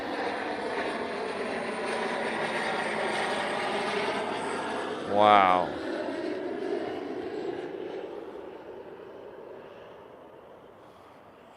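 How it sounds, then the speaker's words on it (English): A big jet airplane passes overhead, a broad, steady roar that swells and then slowly fades into the distance, with a single brief exclamation from a voice partway through. "I think it's that same plane that sounds like a real big jet."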